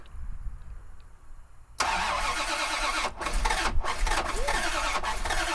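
A 1989 Bentley Turbo R, abandoned and stripped, cranks and fires at about 1.8 seconds, then settles into a loud, steady idle with a few brief dips, close by and with no talk.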